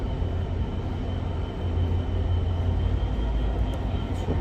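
A Class 66 diesel locomotive passing through Carlisle toward New Yard, heard as a steady, fairly loud low rumble and drone with no talk over it.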